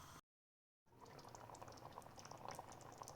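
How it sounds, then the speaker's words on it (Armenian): Thick meat soup simmers in a covered pot, a steady bubbling murmur that grows slightly louder after a brief silent gap near the start. "Տեսեք ինչ հանգիստ էփվում է"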